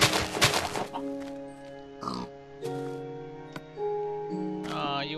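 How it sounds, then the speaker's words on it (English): A Minecraft pig oinks in a short run of loud, close grunting squeals, with brief pauses between calls and no talking. "Ooh, it's a pig!"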